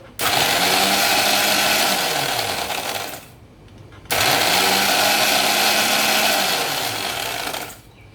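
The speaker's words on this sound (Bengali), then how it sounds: "আমি বিস্কিটগুলোকে ব্লেন্ডারে" A kitchen blender grinding broken Oreo biscuits into crumbs, running loud and steady in two bursts of about three seconds each, with a short pause between them and no talking.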